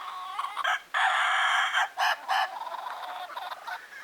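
Roosters at a farm among laughing chicken hens: loud, close crowing in several drawn-out calls with short broken bursts between, alone with no talking.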